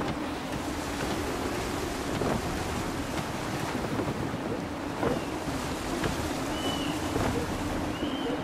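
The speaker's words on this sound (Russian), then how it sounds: "При порывистом ветре идти нелегко." Gusty wind roars at sea aboard a sailing ship in Assassin's Creed, a continuous rushing blast mixed with waves and creaking, with no speech.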